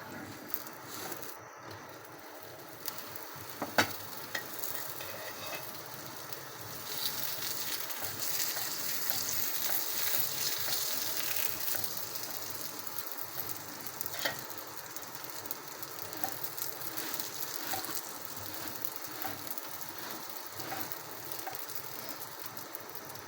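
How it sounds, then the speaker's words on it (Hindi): A paratha fries in Dalda in a pan over low heat, giving a steady soft sizzle and hiss with faint crackles throughout, fairly quiet and with no talking. "देखिए भून रहा है पराठा"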